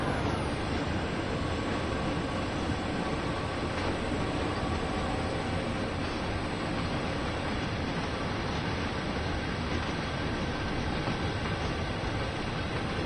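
A freight train in Train Sim World 2 on Sherman Hill runs steadily with a continuous low rumble and rolling wagon noise, loud and unbroken throughout, with no voices.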